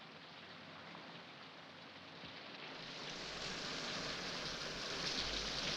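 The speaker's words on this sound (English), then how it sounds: "It has begun raining again." Steady rain pours down, a dense even hiss of drops that grows slightly heavier and louder partway through, with no voices.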